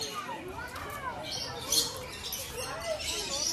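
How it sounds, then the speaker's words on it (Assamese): A myna bird at Guwahati Zoo gives short, faint, chirpy squawks and whistles, heard in brief bursts alongside nearby talk. "মইনা চৰাই"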